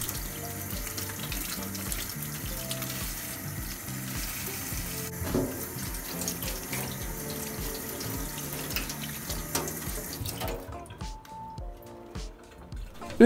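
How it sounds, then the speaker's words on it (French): Tap water runs steadily from a kitchen faucet as horn peppers are rinsed under it, a continuous splashing hiss that lasts most of the time and thins out into sparse drips and clatter near the end. "on va les passer sous l'eau et nettoyer les interstices et la tige"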